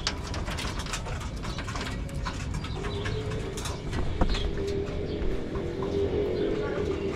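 Racing pigeons coo softly as they land at their loft during a derby race, the low calls half buried under steady outdoor noise and scattered clatter.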